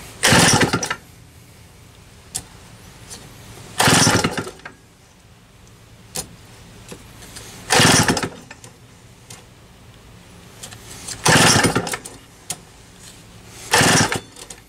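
Small engine with a Tillotson HL-63A carburetor on a cold morning, its recoil starter yanked in five separate loud bursts spaced a few seconds apart, each a brief rasping whirr with faint ticking between, and the engine never catching.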